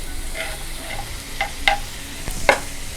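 Tomatoes sautéed with browned onions and salt in a pan for chicken keema, a low sizzle broken by a few sharp spatula scrapes and clinks against the pan, close and unaccompanied by speech.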